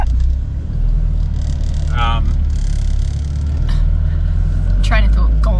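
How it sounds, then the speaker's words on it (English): A car reverses on the west coast of K'gari (Fraser Island), its low engine rumble running steadily beneath people talking nearby. "Just reversing up for a few cars."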